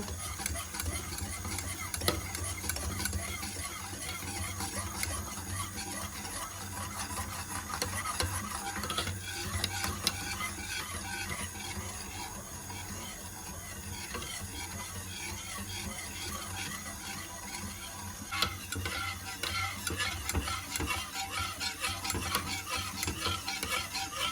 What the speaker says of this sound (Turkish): kaynayana kadar yavaş yavaş karıştırıyoruz bu şekilde